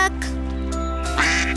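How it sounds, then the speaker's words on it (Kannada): A cartoon mallard duck quacks in a short burst near the end, over a steady tonal musical backdrop, with no talking. "good bye ಮ್ಯಾಲರ್ಡ್ duck"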